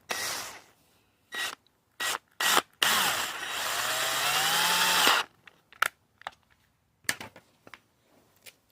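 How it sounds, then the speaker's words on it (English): A screw turns into freshly tapped glow plug threads, giving short scraping bursts and then one long grinding, rasping stretch of metal on metal, ending in smaller scratches and clicks, close up and without talk. "I've actually got a screw here, and you should be able to screw into the glow plug"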